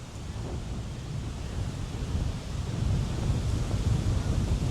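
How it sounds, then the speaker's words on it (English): Strong wind gusts at the shore, a loud continuous roar buffeting the microphone and building toward the end, with a low rumble like surf beneath and no one speaking. "Dang, this wind is crazy."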